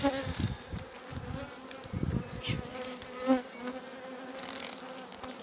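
Honey bees buzz steadily around an apiary hive during a brood-frame inspection, a dense close-up hum with individual bees droning past the microphone and a few louder passes.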